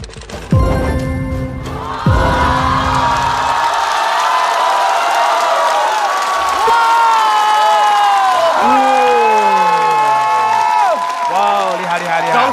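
A studio audience at a Chinese stand-up comedy show roars for a performer, with sustained loud cheering, whoops, shouting voices and applause that swell and carry on for the whole stretch.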